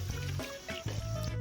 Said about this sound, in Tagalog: pwede na po nating lagyan ng tubig